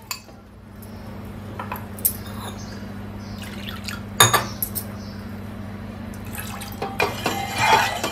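A mixture is poured into a pot on a gas stove and stirred, with scattered clinks of a utensil against metal and soft liquid drips over a faint steady hum, no voices.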